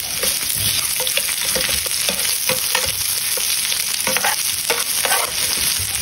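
Ginger, garlic and onion sizzle steadily in a hot pan while being stirred, a dense crackling fry with scraping clinks of a utensil throughout, close and loud, no voices.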